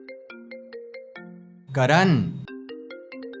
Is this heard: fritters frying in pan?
no